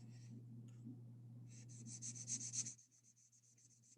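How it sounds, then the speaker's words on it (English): Highlighter tip rubbed back and forth across graph paper, a soft, close scratchy shading that swells to a brisk run of strokes and then eases off, heard alone with no talk. "I'm gonna shade all the graph paper below the line"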